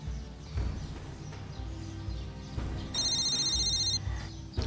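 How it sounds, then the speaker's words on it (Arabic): Mobile phone ringing, a bright electronic ringtone that sounds once for about a second over faint room noise and rustling movement. "دي اكيد منى، ده انا من كتر مكالماتها قفلت الموبايل. انا لازم ارد عليها"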